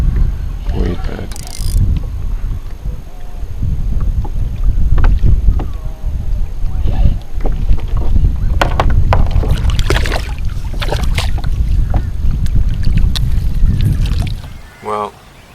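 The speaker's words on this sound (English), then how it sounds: "the wind has arrived and it's making it difficult" Wind gusts across Lake Kurwongbah around a fishing kayak, a steady loud rumble on the microphone with scattered knocks and clicks of paddle and tackle, fading near the end.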